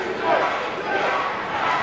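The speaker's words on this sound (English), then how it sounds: "the crowd just screaming and yelling for Jimmy Woods" A wrestling crowd at the Pandemonium III event screams and yells for Jimmy Wood, a dense, loud, continuous roar of many voices that fills the whole moment.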